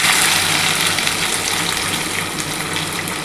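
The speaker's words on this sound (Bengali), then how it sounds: "আমি একটা করে ভাজছি বন্ধুরা" Soybean and potato cutlets fry one at a time in hot oil over a low gas flame, giving a steady, dense hiss that continues evenly throughout without any talk.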